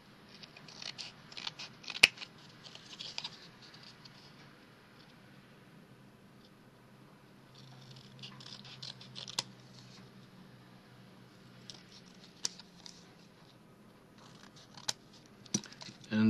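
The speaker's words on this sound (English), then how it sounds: "so I will cut this picture actually" Scissors cutting a paper picture for a matchbox shadow box, a series of soft snips and crinkles spread through the stretch with a few sharp clicks, all faint and close, with a person speaking quietly at times.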